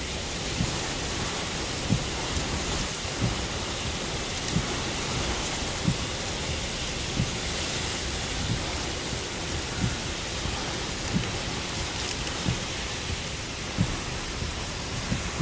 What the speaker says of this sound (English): These rains are pretty ferocious right now.